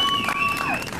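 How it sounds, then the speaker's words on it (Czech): Audience applause at a live show in Smíchov, a dense wash of clapping filling the full second with a steady, fairly loud texture and a faint tonal line running through it. "prosím bych pro něho potlesk"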